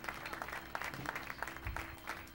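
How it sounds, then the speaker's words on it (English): A church congregation claps along at a Sunday evening service, a steady, fairly faint patter of many hands filling the room with no voices in between. "Come on, put those hands together."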